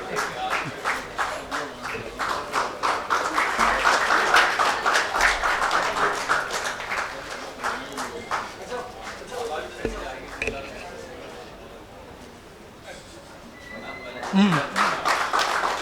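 Loud applause welcoming the groom Vijay Bhadauria on stage at a Bhopal mushaira poetry gathering, sustained dense clapping from a large audience that swells, eases off and rises again near the end.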